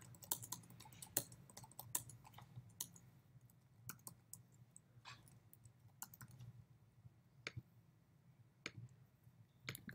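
Quiet, irregular clicking of computer keyboard keys as payment details are entered, scattered taps with short pauses over a faint background hum.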